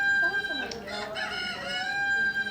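A rooster crows close by in a Philippine setting, one long drawn-out cock-a-doodle-doo over a steady high-pitched tonal hum and soft background noise.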